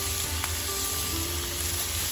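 Bacon and vegetables seasoned with Mrs. Dash cook in a pan over low heat, giving a soft, even sizzle with a faint steady hum and no talking.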